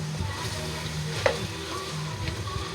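Chicken pochero with a Knorr cube sizzles in a pan while being stirred, giving a continuous frying crackle with a few scraping knocks from the stirring.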